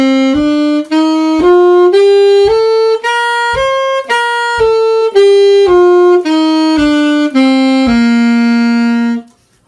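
A saxophone plays a rising and falling scale alone, roughly a dozen clear tongued notes at a steady pace, each attack landing crisply on the offbeat, ending on a long held low note.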